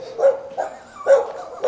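A dog barking several times outdoors around a Bucharest homeless shelter bunker, with short, close, fairly loud barks mixed with whiny yips, and no talk.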